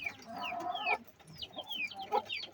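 Several chickens in a coop cluck in short, close bursts, with a few scattered calls overlapping across a brief moment.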